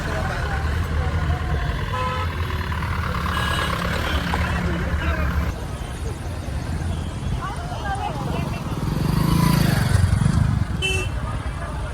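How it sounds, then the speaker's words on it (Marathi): Busy traffic on the Belgaum–Vengurla main road, with trucks, cars and motorcycles passing, horns tooting and engines rumbling at varying distances while someone talks over it. "बघू शकतात आता किती गाड्या जातात"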